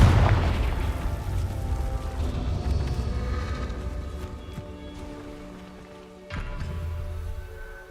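A Confringo blasting-spell explosion in the Hogwarts Legacy video game: a heavy boom at the start that rumbles and fades over several seconds, followed by a second muffled thud near the end.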